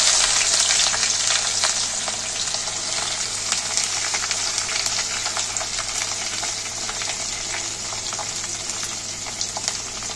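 Chopped onion frying in hot oil with bay leaf for Bengali mutton kosha, a loud, steady sizzle running continuously close up with faint stirring crackles.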